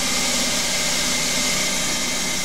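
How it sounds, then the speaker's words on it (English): A Hercus PC200 CNC lathe cutting a 2 mm thread on a vintage BSA Empire Star motorcycle part gives a steady, loud, broadband machine whir with a constant hiss and low hum that holds unbroken throughout, with no voices. "It's taking 10 cuts. I think the recommended is probably about 7, but 10 works alright on this little lathe."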